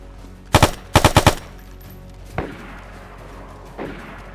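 Gunfire from a weapon in the video game DayZ: one short double burst, then a rapid four-round burst, followed by two fainter distant shots with trailing echoes, with no talk over it.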